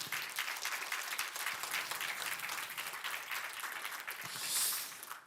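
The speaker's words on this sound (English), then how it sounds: "Warm applause to Paola." Warm audience applause for a speaker named Paola at an architecture conference, a steady, fairly soft round of clapping across the hall that holds evenly and swells slightly before fading.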